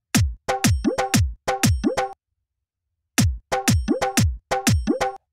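Dadra taal rhythm pattern with kick drums and bell plays in a punchy repeating groove of sharp drum hits in short bursts, pausing for about a second before the pattern returns, loud and clean.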